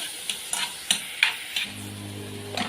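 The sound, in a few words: stirring onion, garlic and chopped pepper in a pan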